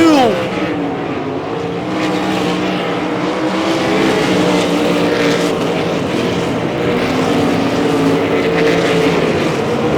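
Lucas Oil POWRi 305 winged sprint cars race a 30-lap feature on a dirt oval in southern New Mexico, their engines a loud, continuous, rising and falling roar throughout.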